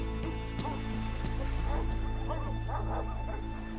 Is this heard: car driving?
no